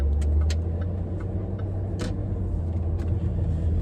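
A Range Rover L322 4.4 TDV8 diesel accelerates smoothly, a steady low engine drone heard from inside the cabin with faint ticking clicks scattered over it and no talk.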